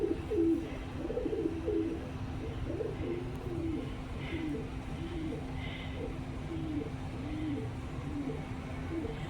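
Pigeons or doves living at the Fox Theater in Bakersfield, California coo in a steady repeating pattern under a constant low hum of outdoor noise, with faint higher calls now and then.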